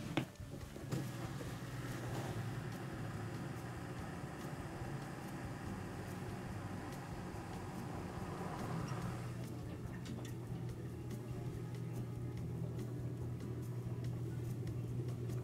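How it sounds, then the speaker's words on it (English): A Whirlpool dishwasher drain pump runs while draining water, a steady low hum and rumble with a faint ticking that holds evenly from start to finish, close by, with no talking. "put it in to drain manually and observe the underside of the drain pump as it drains"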